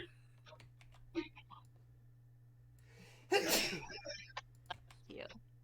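A single loud, sharp sneeze bursts out midway, close to the microphone, amid faint keyboard typing and clicks over a low steady hum.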